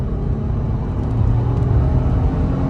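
A 2007 Acura TL engine pulls hard at high RPM into VTEC, a loud, steady, low droning rumble heard from inside the cabin without a break, with no voices over it.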